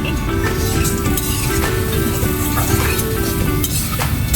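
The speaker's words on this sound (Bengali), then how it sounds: "ভালো করে কষিয়ে কষিয়ে কষিয়ে কষিয়ে রান্না করছি" Food sizzles and fries in a pan over a brick stove built on a rooftop, with steady continuous crackle and occasional stirring scrapes, loud and close, with no voices.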